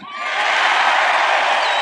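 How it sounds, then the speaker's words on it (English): A large crowd at a Trump rally cheering and whooping, swelling quickly to a loud sustained roar that holds steady. "They're cheering environmentalism."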